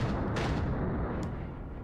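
A muffled game explosion booms near a pillar, hurling the player, a dense rumbling burst with a sharp crack early on, fading slowly over about two seconds.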